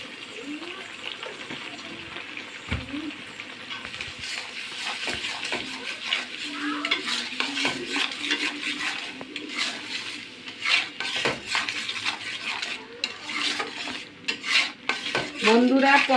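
A spice masala with salt and turmeric is stirred in a pan for shing fish, with quiet metallic spoon scrapes and clinks of cookware going on throughout and a faint voice in the background.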